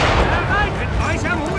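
A heavy, rumbling mortar explosion in Assassin's Creed III fills the whole moment, loud and booming, with a voice faintly mixed underneath.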